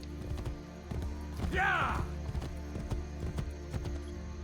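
Horse hooves clip-clop steadily in Assassin's Creed Brotherhood, a rhythmic galloping beat over a low rumbling game backdrop, with a brief neigh or whinny partway through.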